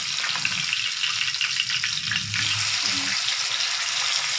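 A rohu fish head fries in hot oil at home, giving a steady, close, dense sizzle that crackles continuously with no talking.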